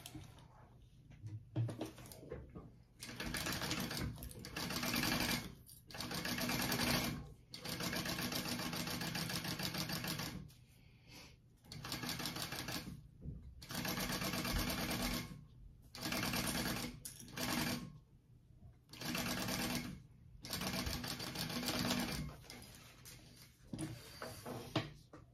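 A sewing machine bastes a crossbody bag exterior onto zipper tape in repeated close, steady bursts of stitching separated by short pauses, with faint handling sounds between runs.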